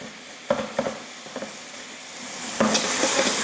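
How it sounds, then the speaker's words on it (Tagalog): Pork chop frying in a pan, a soft steady sizzle with several quick scraping stirs and taps of a utensil, getting louder and brighter toward the end. "So, kapag nagpiprito tayo ng pork chop, natural yan na lalabas yung liquid galing dito, no?"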